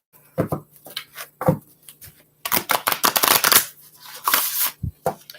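Stiff, new, oversized oracle cards are riffled and shuffled in several bursts, with crisp flapping and snapping close up, separated by short pauses.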